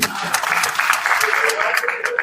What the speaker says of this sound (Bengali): ওনার জন্য একটা হাততালি অবশ্যই দিবেন